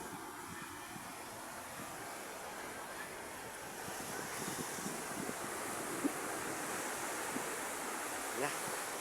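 Ocean waves wash steadily at a beach resort in a soft, continuous hiss of surf mixed with wind buffeting the microphone, fairly faint with a couple of small splashes and no clear talk.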